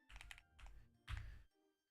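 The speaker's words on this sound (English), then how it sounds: "Man, my typing today." Quick bursts of computer keyboard typing, fairly faint and close, tapping in three short clusters with brief pauses between and no talk.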